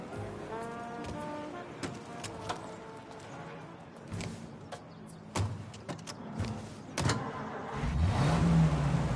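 Car driving in Mafia: Definitive Edition, the engine rising steadily toward the end, with scattered clicks and interior clunks over a low mechanical hum and no talk.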